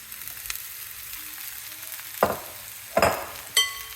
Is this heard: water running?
no